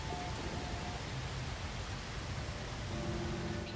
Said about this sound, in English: it's just pouring toxic rain